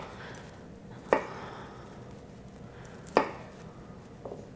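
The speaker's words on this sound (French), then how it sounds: "on va finir de trancher" A knife cuts through cauliflower florets on a board, giving two sharp distinct chops about two seconds apart and a faint third tap near the end, in a quiet room.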